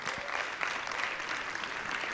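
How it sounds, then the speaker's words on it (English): An audience applauding a conference panel, a dense wash of steady clapping throughout, moderately loud and fairly close. "So please give a round of applause and let's get started."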